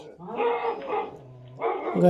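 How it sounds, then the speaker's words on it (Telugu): A dog snarls and barks in bursts while attacking a thief who came to steal a bicycle from a house, with a lower growl between the louder outbursts. "ఇప్పుడు వాడికి కుక్క అటాక్ చేసింది"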